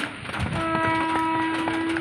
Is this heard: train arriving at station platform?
yes